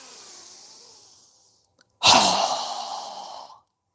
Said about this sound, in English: Again, strong breath.